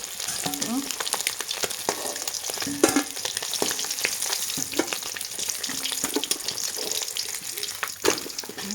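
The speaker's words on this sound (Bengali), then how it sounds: "মাছটা আমি খুব সুন্দর করে লাল লাল করে ভেজে নিয়েছি" Rohu fish pieces fry in hot oil in a home kitchen, giving a continuous close sizzle dotted with sharp crackles and small pops, with no voices.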